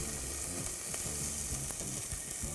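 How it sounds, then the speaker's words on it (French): Onions and apples sauté in a little butter in a saucepan, giving a steady, close sizzle and crackle with a few soft stirring scrapes, no voices over it. "On va revenir ça dans une casserole avec un tout petit peu de beurre."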